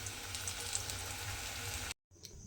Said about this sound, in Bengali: এইভাবে তেলের মধ্যে ছেড়ে দেব, দিয়ে পকোড়াগুলো বানিয়ে নেব